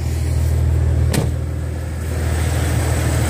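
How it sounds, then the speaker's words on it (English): A Toyota 4Runner with a check engine light and about 160,000 miles runs at a steady idle, a loud low rumble heard up close with a brief click partway through. "Let's go ahead and listen to the engine."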